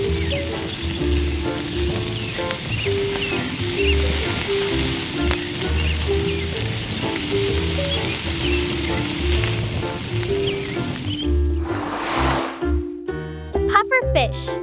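A miniature fish sizzles and fries in cooking oil in a tiny toy kitchen, with steady crackling throughout and clinks and scraping near the end.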